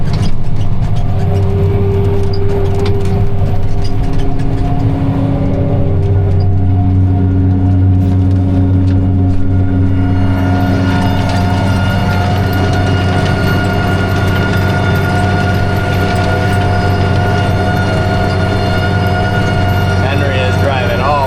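A tractor pulls a Pro-Till implement across soft, sinking field ground, its steady low engine drone continuous throughout and joined by a brighter mechanical hum partway through, with voices talking over it.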